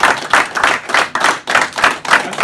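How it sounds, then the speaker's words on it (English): A short burst of audience applause at a roast, many hands clapping together in a lively, uneven rhythm, fairly close and loud. "Let's all give Captain Harris a round of applause for taking care of us"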